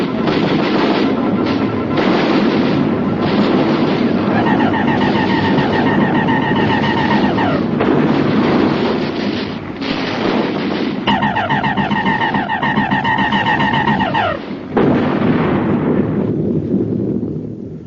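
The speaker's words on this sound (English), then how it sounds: "All batteries, repeat fire!" Several batteries of artillery fire repeatedly in a radio drama sound effect, heavy booming blasts and bursts that roll together loudly and continuously, with rising whistling tones woven through.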